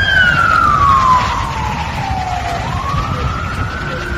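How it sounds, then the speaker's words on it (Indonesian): A toy ambulance siren wails in a long falling-then-rising sweep, loud and close over a rough, noisy background, with no talking. "Di sini ternyata ada mobil ambulan."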